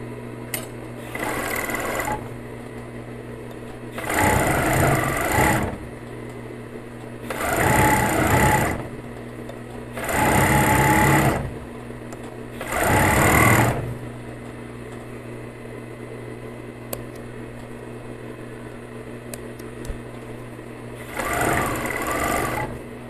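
A coverstitch machine hems stretchy fitness leggings in six short loud bursts of fast buzzing stitching, spaced by quieter gaps over a steady background hum.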